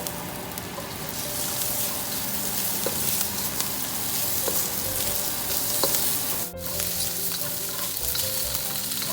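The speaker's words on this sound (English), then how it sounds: "Add your shrimp. Kind of give it a little bit brown." Shrimp and tofu for pad thai fry in a hot pan, giving a loud, steady close sizzle with occasional stirring clicks and one brief dip midway.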